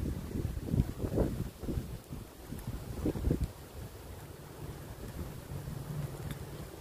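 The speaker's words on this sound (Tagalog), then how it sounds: "malakas pa rin yung bugso ng hangin" Strong typhoon wind gusts buffet the microphone in rough bursts, rising and falling against a steady rushing background.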